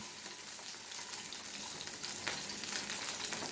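Salmon frying in a pan just after being flipped, a steady close sizzle and crackle that holds throughout and grows slightly louder toward the end.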